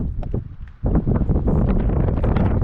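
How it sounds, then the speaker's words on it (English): Loud, blustery wind buffets the microphone in constant low rumbling gusts at a campsite near Las Vegas, with a sudden stronger surge about a second in. "Wow, it is super windy."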